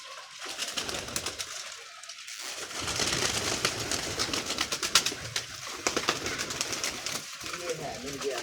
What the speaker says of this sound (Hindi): बड़े शौक वाले कबूतर हैं ये